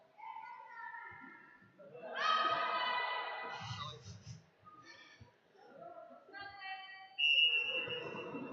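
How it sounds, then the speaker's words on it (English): At a roller derby game, a referee's whistle sounds in shrill bursts, some long and some short, amid a noisy arena with commentary and crowd voices. "hand drops, whistle blown"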